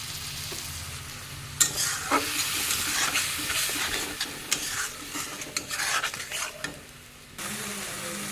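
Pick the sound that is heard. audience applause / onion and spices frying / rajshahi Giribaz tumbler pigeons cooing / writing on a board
onion and spices frying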